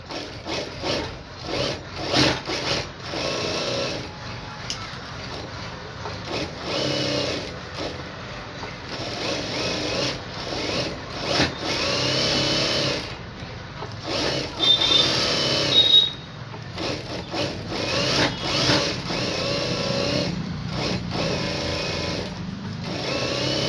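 A sewing machine stitches a blouse lining in bursts of rapid mechanical whirring, stopping and restarting several times, close and clear with brief pauses between runs.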